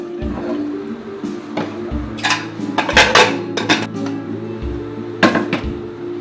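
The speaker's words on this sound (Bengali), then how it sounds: "এরপরে ঢাকনা দিয়ে ঢেকে দেব" A metal lid is handled and set onto a pressure cooker, producing several loud close clanks and scrapes in short bursts, with quieter rattles between them and no talking.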